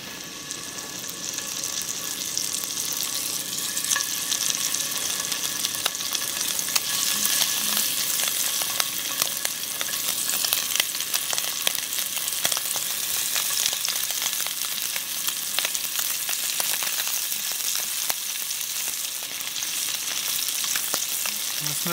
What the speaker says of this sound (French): On va venir mettre nos pétoncles.